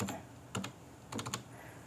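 Clicky keystrokes on a PC keyboard while typing a settings search after the Windows key: a short burst at the start, a pair near the middle and a quick run of four or five taps toward the end, close and moderately quiet.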